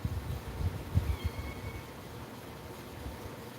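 A kitten meows a few soft, short times indoors early on, faint and close, then trails off into quiet room noise.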